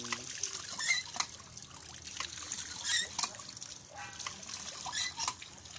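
Water trickles and drips steadily from a hole drilled into a mountainside, a light splashing and dribbling sound with no talking.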